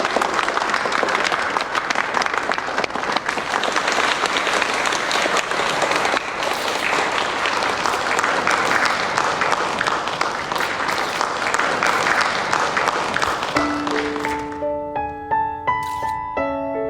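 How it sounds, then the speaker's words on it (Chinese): An audience at a charity donation ceremony for city hospitals claps in sustained, dense applause for several seconds, which fades out as a bright musical chime rises at the end. "掌声有请"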